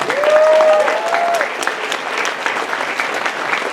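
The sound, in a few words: convention audience applause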